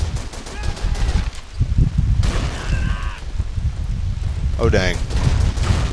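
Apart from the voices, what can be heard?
grenade explosions and gunfire in video game Call of Duty 3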